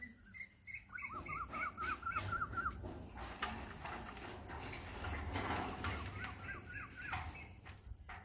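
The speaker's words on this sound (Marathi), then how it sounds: "पक्ष्यांचा किलबिलाट आवाज येतोय" Birds chirping at dawn around 5 a.m. on a farm, with repeated clear whistled calls over a constant high insect trill, moderately near and without talk.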